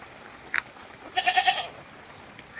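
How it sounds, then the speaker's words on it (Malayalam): A pregnant Malabari goat gives a wavering, quavering bleat close by, preceded by a brief short cry; no one speaks. "നല്ലൊരു മലബാരി പെട്ടൊരാടാണ്."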